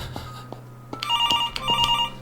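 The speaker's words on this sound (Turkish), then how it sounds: "Aha telefon çaldı vallahi." A telephone rings in a horror video game, two bursts of warbling electronic ringing over a low hum, with faint knocks and thuds around them.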